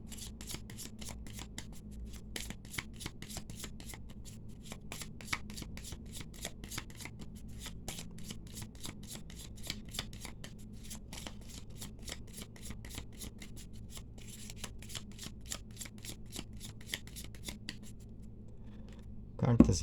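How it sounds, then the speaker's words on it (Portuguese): Tarot cards shuffled by hand, a long run of quick, crisp riffling ticks in steady clusters, close and soft, over a faint low hum, ending with a slightly louder knock. "Cartas embaralhadas para você"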